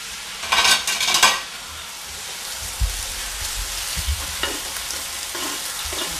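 Chorizo frying in a pan crackles and sizzles steadily up close, with a couple of louder bursts of spattering and occasional low knocks of the pan, and no speech.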